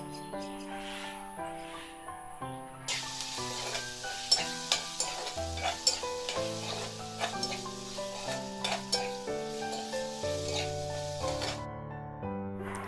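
Marinated chicken pieces fry and get stirred in a hot pan, a steady sizzle with scraping stir strokes throughout while background music plays over it.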